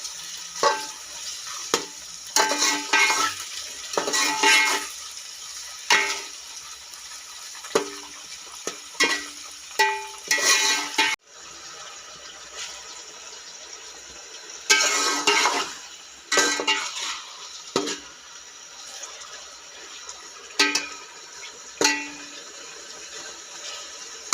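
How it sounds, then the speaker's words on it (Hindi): Chicken and rice frying together for biryani, with intermittent clattering scrapes of a spoon against the pot between softer sizzle, close and fairly loud, with no talking. "इसको भूनेंगे कलर चेंज होने तक"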